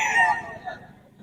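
A farm-raised rooster crows once, fairly close and moderately loud, its drawn-out call fading over about a second.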